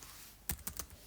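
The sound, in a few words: computer keyboard keys pressed for Control Z shortcut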